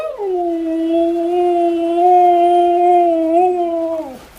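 A dog howls in one long, sustained, wavering tone that bends up and down like speech, ending in a short whimpering drop; close and loud, alone without talk.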